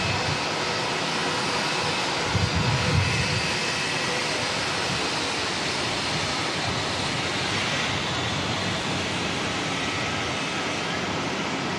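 Jetstar airliner lining up at Auckland Airport, a steady, even jet engine hum and wash of noise held throughout at moderate distance, with a brief low thump early on.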